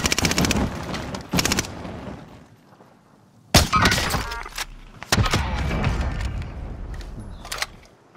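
Gunfire in the video game Call of Duty: Modern Warfare, several sharp loud bursts and single shots separated by short pauses, close and punchy, with no talk over them.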